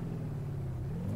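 Engine of a 1972 Gavril Bandit in BeamNG.drive under a gentle throttle, a low steady rumble with pitch rising slightly, alone and fairly quiet.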